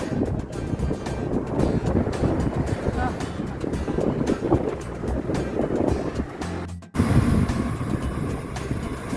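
Sea waves wash and rumble continuously on the coast near Ilocos Sur, Philippines, with wind buffeting the microphone, broken by a brief cut near the end; a voice speaks over the surf.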